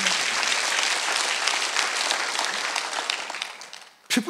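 A church congregation at a Korean Sunday worship service claps together in sustained, dense applause that fades over a few seconds before a brief loud burst near the end.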